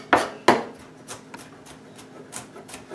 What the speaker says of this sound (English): We want to kind of dice our onion up so that it gets flavor throughout the whole thing